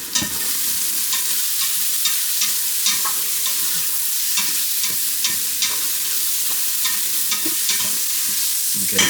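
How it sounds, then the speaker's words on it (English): Mustard seeds sizzle in a hot pan while cooking pickled eggs: a loud, dense, steady frying hiss with scattered small pops and crackles running throughout, close up and with no voices. "So I'm just going to sprinkle some mustard seeds in here for flavor. Brown those out as well."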